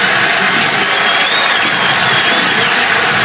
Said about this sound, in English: The crowd in Cincinnati has the answer as the rookie Evan McPherson is lifted high in the air.